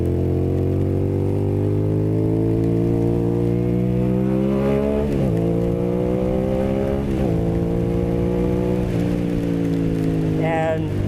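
A motorcycle rides along a road, its engine droning steadily, with pitch rising and falling as the rider shifts through gears, close and loud throughout.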